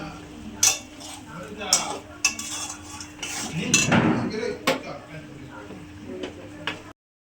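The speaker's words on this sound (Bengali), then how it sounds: "এবার মশলাটা ভালো করে কষিয়ে নেব" Masala being stirred in a pan with potatoes and pointed gourd for a vegetarian soybean curry, heard as repeated clinks and scrapes of a spoon against metal over a low sizzle, with a voice talking throughout.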